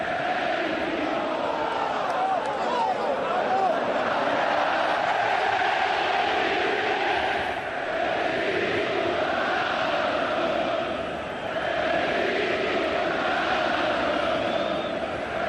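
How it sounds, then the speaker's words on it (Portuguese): Chile fans in the Estadio Nacional singing the national anthem before a penalty shootout, a broad sustained roar of massed voices rising and falling, with commentary voices faintly beneath. "O time reunido para os pênaltis e a torcida cantando o hino."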